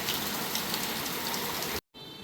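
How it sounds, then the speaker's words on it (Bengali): Heavy rain pours steadily in a dense, hissing wash, close and constant, cutting briefly to silence near the end. "বাইরে প্রচণ্ড বৃষ্টি হচ্ছে"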